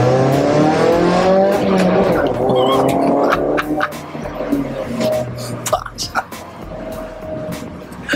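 A modified turbo Honda Civic making about 260 hp spins its tires, a loud revving engine with squealing rubber that fades after a few seconds into lighter scuffing and clicks, with people talking nearby.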